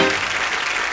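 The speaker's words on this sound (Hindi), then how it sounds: "जोरदार तालियां हो जाए रवीना के लिए।" A studio audience on a Hindi comedy talk show claps for guest Raveena, a brief, dense burst of applause filling the whole moment.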